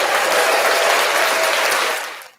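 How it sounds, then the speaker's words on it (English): A brief burst of dense, close applause from a crowd, loud and even for about two seconds before it quickly dies away. "We'll clap it up for that."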